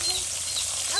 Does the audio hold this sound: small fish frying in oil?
yes